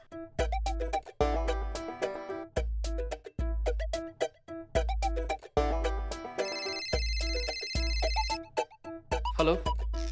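A telephone ringtone plays during an outgoing call, a loud melodic pattern of bright, bass-heavy phrases repeating in a steady rhythm, with a higher chiming layer joining midway.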